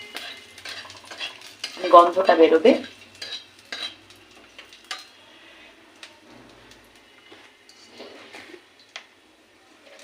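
Whole cloves, cardamom and cinnamon fry gently in oil on lowered gas, making a soft, close sizzle with light stirring scrapes; someone speaks briefly over it early on.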